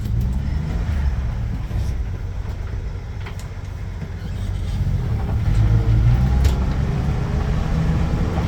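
A rebuilt Ford Bronco truck drives with a low rumbling engine and road noise, swelling louder toward the end of the run, no talk.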